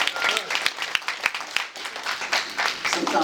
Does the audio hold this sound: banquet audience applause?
yes